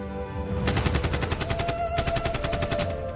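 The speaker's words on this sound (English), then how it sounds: "Gunfire erupted." Rapid automatic gunfire in two sustained bursts with a brief pause between, loud and sharp with a dense rattling rhythm.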